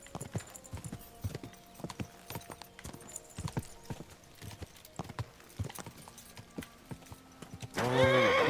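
A horse's hooves clip-clop at a walking pace in the medieval game Kingdom Come Deliverance 2, fairly near and steady, ending with a loud, sharp whinny in the last second.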